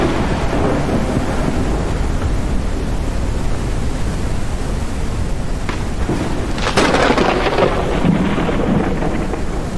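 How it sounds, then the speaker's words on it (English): A storm in the Forever Skies game brings steady heavy rain and a rolling rumble of thunder, with a louder crack and lingering roll toward the end. "Looks like the storm hasn't passed yet"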